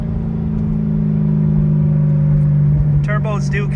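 A turbocharged car on R888 tyres accelerates with a loud, steady engine drone heard from inside. A voice speaks briefly near the end.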